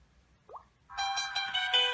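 Smartphone powering off, a brief rising chirp followed by a sustained bright multi-tone chime that swells and holds to the end, fairly loud and close with no talk.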